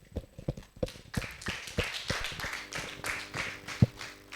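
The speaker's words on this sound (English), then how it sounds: "A round of applause." Audience applause in the main hall of a children's AI summit: scattered, uneven claps that start sparse and grow into a moderate patter, fairly close and faint, with no talking over it.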